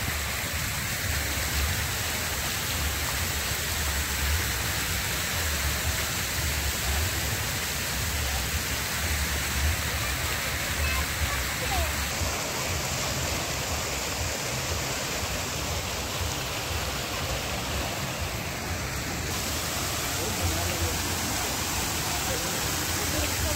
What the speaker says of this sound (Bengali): হেভি সুন্দর, দারুণ ফাউন্টেন